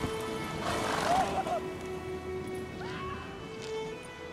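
Horse in a video game, ridden by a character called to halt, gives a short neigh or whinny amid clip-clopping hooves and background game sounds, with other voices around.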